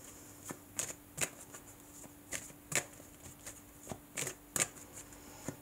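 Tarot cards being shuffled in a series of quick riffling bursts, close and fairly quiet, with brief pauses between them and no talking.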